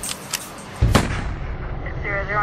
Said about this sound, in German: Plötzlich hört sie einen lauten Knall.